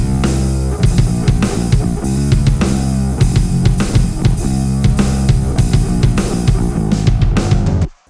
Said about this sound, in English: let's just have the bass and the drum